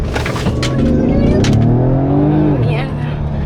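A Ford Explorer ST launches from a standstill in sport mode with traction control off, engine revving up in rising tones that climb and fall back, loud and close, with excited voices over it.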